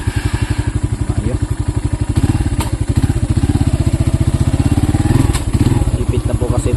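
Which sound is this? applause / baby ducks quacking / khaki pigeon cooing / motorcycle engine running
motorcycle engine running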